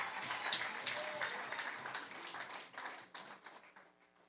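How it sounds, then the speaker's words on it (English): A live audience applauds at a calypso celebration, a faint dense patter of many hands clapping that fades toward the end. "Give him a round of applause."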